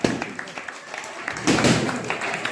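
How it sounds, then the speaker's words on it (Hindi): Scattered handclaps from a small group at a Teachers' Day cake cutting, irregular and close, swelling briefly into a denser burst before thinning, with voices talking alongside. "मारिए ताली"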